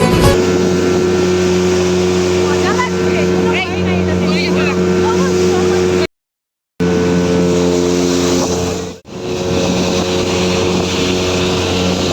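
A motorboat carrying a group of passengers on open water, its engine droning steadily and fairly loud, with people talking and calling out over the motor and one short break in the sound.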